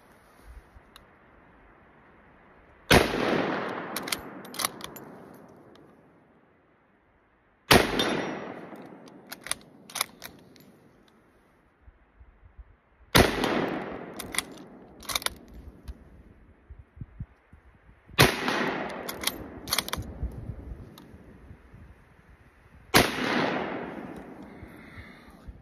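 A Berthier M1916 carbine firing 8mm rimmed Lebel rounds, five sharp loud shots spaced several seconds apart, each followed by clanking of bolt action and echoing decay.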